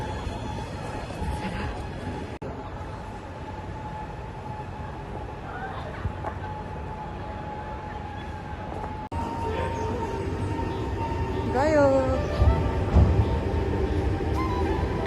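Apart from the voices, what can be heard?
train departing from Fujisawa station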